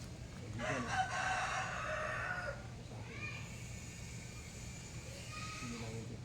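A live rooster crows nearby, a drawn-out call followed by shorter clucks and calls, with people talking quietly in the background.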